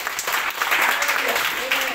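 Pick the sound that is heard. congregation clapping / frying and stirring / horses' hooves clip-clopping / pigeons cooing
congregation clapping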